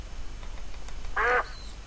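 A duck in a woodland survival video game gives one short, clear, nasal quack against a low background hum.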